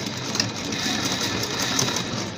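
Sewing machine backstitching bias tape along a fabric neckline, a rapid, steady, close mechanical whirring rattle running without pause.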